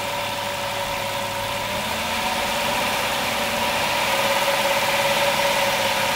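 A 2007 Chrysler Town and Country minivan engine, which sputters on acceleration, idles steadily up close at about 1100-1200 RPM, a constant low hum and rattle that holds at one even speed throughout, with no voices.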